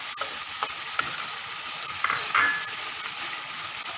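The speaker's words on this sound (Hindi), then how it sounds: "और इनको अच्छे से भून लेंगे।" Ground spices, salt, chilli and dry coriander for dal makhani are stir-fried in a hot pan, giving a steady close sizzle with light scraping stirs and occasional pops throughout.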